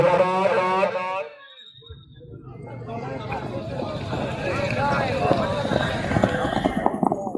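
At a neza bazi horse fair in Pakistan, a racing horse gallops with fast, rhythmic hoofbeats that build and stay close, while a commentator speaks at the start over the surrounding crowd noise.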